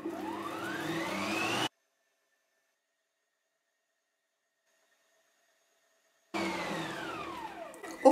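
A kitchen stand mixer whirs loudly while mixing zucchini bread dough with flour and butter. It runs in two bursts, about two seconds, then a long silent pause, then starts again near the end.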